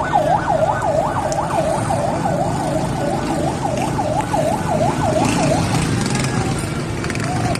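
An ambulance siren wails in a rapid, steady up-and-down pattern at the scene of a car bomb explosion in Syria, loud over a constant roar of street noise and traffic, then drops away near the end.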